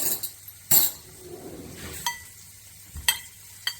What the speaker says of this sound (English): I'm going to mix it a little bit